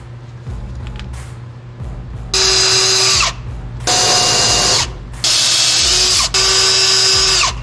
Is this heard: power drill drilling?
yes